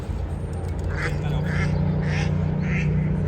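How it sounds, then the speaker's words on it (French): A duck quacks in several short bursts nearby, close to a bench on a riverside quay in Angers, over steady low outdoor rumble with faint background voices. "T'es installé à côté d'un canard"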